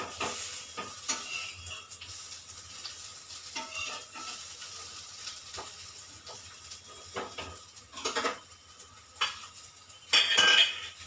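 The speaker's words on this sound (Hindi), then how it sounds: "वो कितने अच्छे फ्राई हो रहे हैं केले, कच्चे केले" Raw banana fries sizzle in a pan while a metal utensil stirs and scrapes them, with repeated clinks and clatters over a soft frying hiss, loudest in a few sharp bursts near the end.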